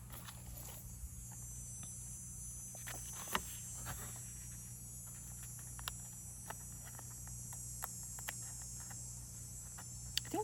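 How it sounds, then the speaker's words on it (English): Bugs, probably crickets, chirp in a faint, high, continuous trill with scattered soft ticks and taps close by, no voices. "I think those are bugs making that noise"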